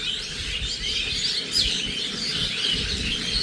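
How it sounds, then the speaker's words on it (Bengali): Birds chirp and tweet beside a rural dirt road, with bright, scattered calls over a soft outdoor background, moderately near. "এই যে পাখির আওয়াজ শুনুন"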